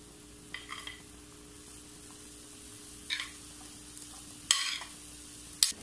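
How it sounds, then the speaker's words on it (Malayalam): Chopped ash gourd pieces go into a pan for a Kerala-style stir fry, a quiet low sizzle with a few sharp spoon scrapes and clinks spaced a second or so apart. "ഇതിലേക്ക് നമ്മൾ നേരത്തെ അരിഞ്ഞു വെച്ച കുമ്പളങ്ങയുടെ കഷ്ണങ്ങൾ ചേർത്ത് കൊടുക്കാം."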